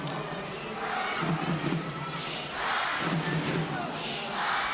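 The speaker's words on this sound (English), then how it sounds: "The crowd getting louder as Kazakhstan get better." A packed volleyball arena crowd roars and cheers at a Japan versus Kazakhstan world final qualifying match in 2016, swelling in waves at moderate distance under faint commentary.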